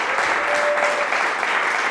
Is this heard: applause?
yes